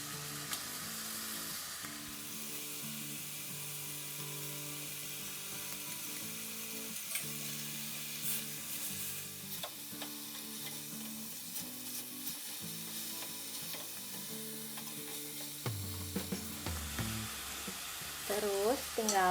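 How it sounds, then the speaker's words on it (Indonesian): Browned beef and onions stir-fry in a pan for a Japanese-style dish, a steady sizzle with occasional scrapes of stirring, fairly close and constant, with a louder clatter of utensil movement near the end. "Setelah kecoklatan kita masukin bawangnya, terus diaduk sebentar sampai wangi"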